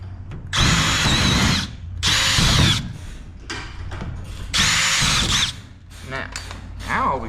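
Power drill driving bolts, several loud whirring bursts with pauses between them, close up, with people talking in the gaps.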